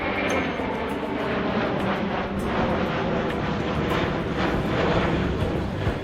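A fixed-wing airplane in flight gives a steady, loud, unbroken engine roar that holds evenly throughout, with no voices.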